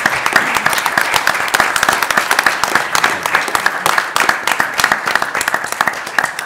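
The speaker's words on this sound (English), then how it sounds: "another round of applause for our speakers" An audience at a public briefing gives sharp, crisp clapping for the speakers, with dense, steady applause that continues throughout.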